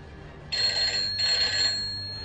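A cockpit telephone bell on an airliner rings in two short electronic bursts, a bright trilling tone heard clearly, with a brief gap between rings.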